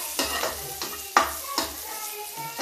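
Onion, garlic and tomato fry in a pan over a raised gas flame; a spatula stirs in regular scraping strokes about every half second above a constant close sizzle.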